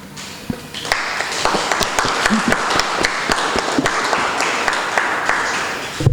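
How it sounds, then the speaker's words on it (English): Audience applause at a 2021 memorial scholarship awards ceremony, dense continuous clapping that swells in after a brief quieter start and holds steady, fairly close and loud. "you as well must be applauded"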